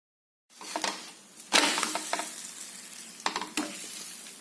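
Wheat grains rasp and sizzle in a hot pan as they are stirred and roasted, with several louder scraping bursts.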